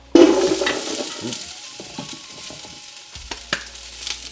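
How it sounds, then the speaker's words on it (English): Onions hit hot olive oil in a stew pot over medium-high heat, giving a loud initial sizzle followed by steady frying hiss and a few close scrapes and stirs of a utensil, with no talking. "Get a little olive oil in there. And we're going to give the onions here a head start."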